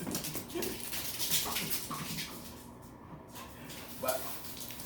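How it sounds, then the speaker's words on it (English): A playful dog whimpers and yips in short, uneven bursts close by, with some faint background noise and brief human sounds around it. "This is just a playful dog."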